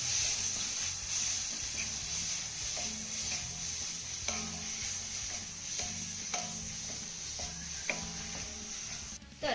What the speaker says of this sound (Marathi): आता हे सर्व साहित्य आपल्याला पुन्हा एक ते दोन मिनटं चांगलं परतून घ्यायचं आहे